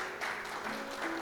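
Congregation applauding during an evangelical church service: a brief, soft, steady patter of many hands clapping in a reverberant room, with a faint sustained tone underneath.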